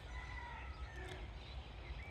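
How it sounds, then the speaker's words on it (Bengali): A rooster crows faintly in the distance on a foggy winter morning in a village, heard over a low steady background hum. "মুরগি ডাকতেছে, সকাল হয়ে গেছে।"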